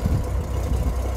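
A Honda Goldwing GL1500 motorcycle engine idles with a steady, smooth low rumble, close and even, with no other sounds over it.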